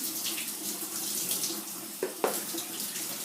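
Water from a running shower splashes steadily and fairly close, a continuous hiss broken by a couple of brief knocks.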